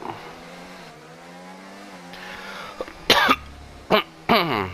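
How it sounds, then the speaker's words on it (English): A person with allergies coughs during an F1 24 racing game session, with two or three harsh, abrupt coughs close to the microphone, cutting over the steady hum of a game car engine. "My coughing and sneezing are back."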